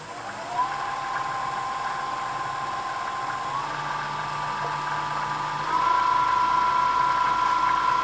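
A wood lathe spins steadily at 1400 RPM while a natural edge bowl is turned, giving a continuous motor whine with a tonal hum that rises slightly in pitch and loudness partway through, with no talking.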